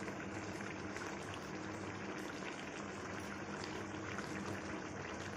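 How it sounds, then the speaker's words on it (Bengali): Meat braising (kosha) in a pan, sizzling and bubbling as a steady, faint hiss with no talking. "এখানে মাংসটি কষছি।"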